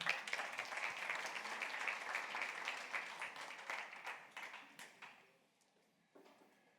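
A Sunday church congregation claps loudly in a dense burst of many hands that thins out and dies away near the end, leaving a short quiet gap before a few final sounds.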